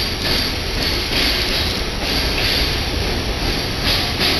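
A Hokuriku Shinkansen bullet train at the Itoigawa station platform, a steady broadband rumble and hiss of the train rolling in, continuous and fairly loud with no talk.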